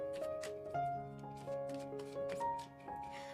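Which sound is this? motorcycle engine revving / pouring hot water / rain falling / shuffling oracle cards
shuffling oracle cards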